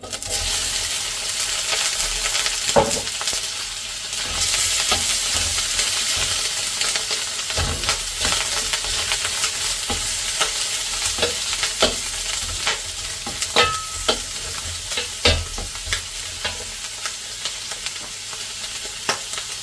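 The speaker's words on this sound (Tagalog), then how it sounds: "Lagyan natin ng kaunting mantika. At tayo ay magsasangkot siya ng kaunting karne." Meat sautés in a little oil for pansit habhab: a continuous loud sizzle with repeated sharp scraping and clinking of a utensil stirring the pan, close up throughout.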